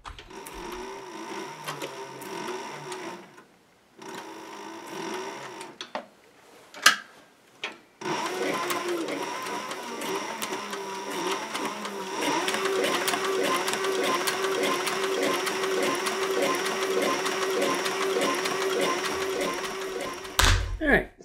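A sewing machine stitches a leather sheath for a meat cleaver, starting with short runs and then running in a long, steady mechanical burr for over ten seconds, with a voice speaking over it.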